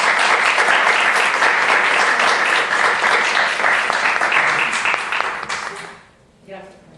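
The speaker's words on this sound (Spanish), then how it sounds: "Un aplauso." Loud, dense audience applause for a guest speaker at a talk, sustained for several seconds before thinning and fading out near the end.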